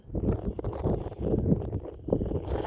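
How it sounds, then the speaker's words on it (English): Wind buffets the microphone outdoors beside a creek at a park during a family fishing outing, a continuous loud low rumble with gusty swells and no clear voices. "So that's obviously just the wind."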